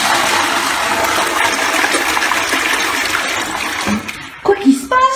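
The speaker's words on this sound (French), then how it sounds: "Et quand je tire la chasse d'eau" A toilet flushing in a home bathroom, a steady broad rush of water for about four seconds that breaks off into gurgles and sputters as the bowl refills and drains, fairly loud and close.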